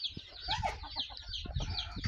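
Several chickens cluck and chatter close by in a busy, overlapping barnyard flurry that continues throughout, with no talking.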